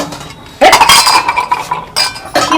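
Household dishes, pots and steel utensils clink and clatter while being washed, with a loud burst of metallic knocking that runs for over a second, then two shorter clanks close together near the end; no talking.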